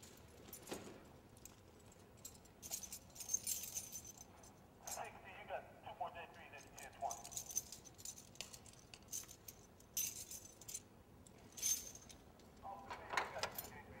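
Keys jangling at a prison as an officer takes an inmate's keys: intermittent metallic clinks and rattles scattered through the passage, faint against background room noise and voices.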